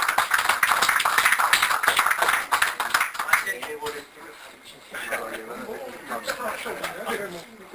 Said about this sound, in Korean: 큰 박수로 환영해서 들어봅시다